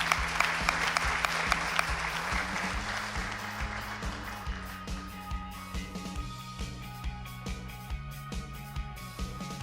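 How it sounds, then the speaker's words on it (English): Hall audience at a school debate finale claps for an award winner, starting as loud dense applause and thinning to scattered, fading claps toward the end. "A round of applause for Eden."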